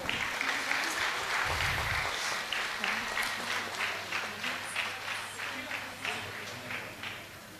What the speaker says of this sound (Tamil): அவரை நாம் கைத்தட்டி வரவேற்போம்